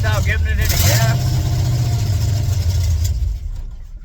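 A 1982 Chevrolet C10 truck engine running rough at a low idle, a loud steady rumble that tends to stall without throttle, with someone talking over it near the start.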